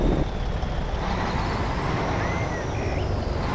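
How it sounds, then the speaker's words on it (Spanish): A Kodiak truck's engine brake in American Truck Simulator gives a steady, loud, broadband roar with a deep low rumble that holds without a break throughout. "Y tiene esta freno motor también."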